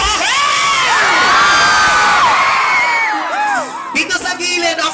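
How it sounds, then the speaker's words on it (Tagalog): Large outdoor concert crowd in Bataraza, Palawan, cheering and shrieking loudly and continuously with high whoops and yells, then easing off slightly toward the end. "Isang hiyawan"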